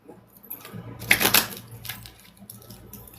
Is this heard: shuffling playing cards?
yes